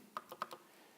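Calculator keys are pressed four times in a quick, light, faint series of soft clicks in a quiet room.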